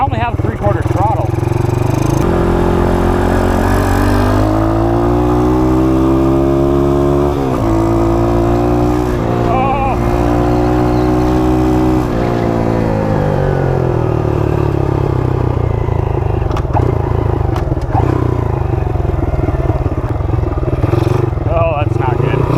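A Honda CT70 mini bike swapped to a 140cc engine revs loud and close, its pitch rising and falling through sustained throttle blips over about twenty seconds, with a voice speaking briefly over the engine.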